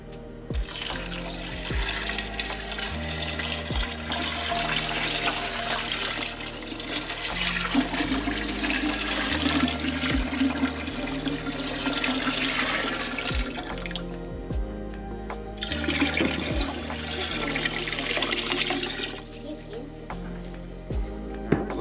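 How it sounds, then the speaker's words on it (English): Water runs steadily into a stock pot for a long stretch, with a rushing, splashing sound that briefly breaks off and resumes. "let's start filling it up with water."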